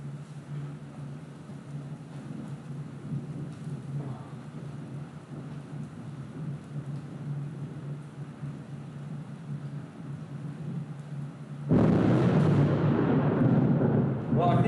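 Thunder from a nearby storm rumbles low and steady with rain, then swells into a louder, close crash near the end.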